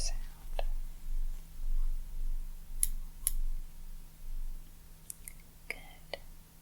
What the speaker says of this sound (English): So I'm going to start with a scissor sound.